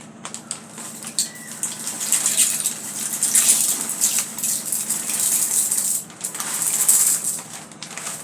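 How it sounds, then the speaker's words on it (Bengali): Pasta pours into a cooking pot with a steady hissing gush and a brief light rattle, fairly loud and close, with no talking. "পাস্তাটা ঢেলে দেবো।"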